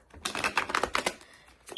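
Rapid, crisp riffling clicks of cards being shuffled close up, a quick burst followed by a brief pause.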